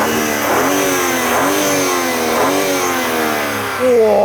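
A twin-turbo straight-six car engine revs hard in repeated bursts, each pull climbing in pitch and then dropping back, loud and close, ending on a high rising whine.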